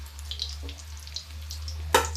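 Chana dal pakoras fry in oil in a pan over a low flame, giving a faint, sparse sizzle over a steady low hum. A sharp splash near the end sounds like another piece dropping into the oil.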